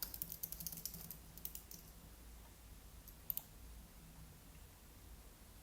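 Quiet keyboard typing, a quick run of clicking keystrokes at the start, then sparse isolated taps over a low steady hum.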